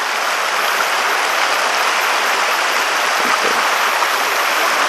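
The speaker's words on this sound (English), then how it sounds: "A little bit of waterfall up there this late in the summer." A small waterfall at Milford Sound, New Zealand, in late summer, pours as a steady, dense rush of falling water with no other sounds.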